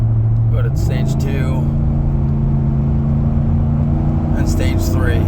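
A car engine idling, then stepping up in pitch and holding a steady higher drone as an Xtros throttle controller is switched to stage 2, with someone talking over it.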